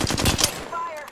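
Rapid bursts of video game gunfire, several quick shots rattling close and loud in the first half, then a brief pause before another shot near the end.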